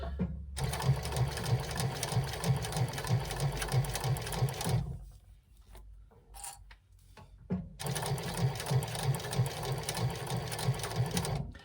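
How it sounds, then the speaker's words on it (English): A sewing machine stitches around a fabric wristlet in two steady, rapid runs, broken by a short quiet pause in the middle while the work is repositioned. "And then we stitch around."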